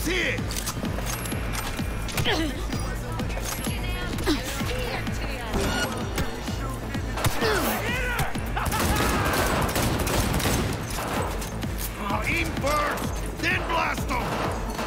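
Gunfire in the Cyberpunk video game, with rapid bursts of shots and mechanical clatter filling about fifteen seconds under someone talking over the action.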